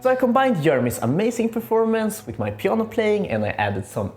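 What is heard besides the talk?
No everyday noises stand out.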